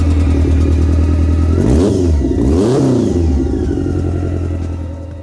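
A BMW motorcycle engine drones loudly and steadily while riding, with a strong low growl that rises and falls through a couple of brief revs and gear changes near the middle, heard close with no talking.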